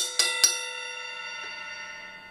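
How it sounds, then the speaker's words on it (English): The bell of a ride cymbal is struck twice in quick succession, giving bright ringing pings that sustain and fade slowly, with a faint third tap later. The sound is close. "Or you can just hit the bell."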